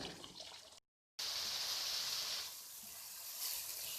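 Chicken with capsicum cooks in a pan over a high flame, a soft, steady sizzle and bubbling as its liquid boils off, broken by a brief dropout of near silence.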